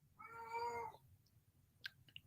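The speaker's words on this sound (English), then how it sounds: "there's my kitty cat meowing in the background" A house cat gives one drawn-out, clear meow in an indoor room, followed by a couple of small clicks, with no talk over it.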